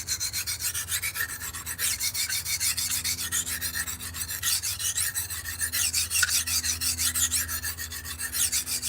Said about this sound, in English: Back to the coarse diamond plate, because that's going to remove some more of that material back here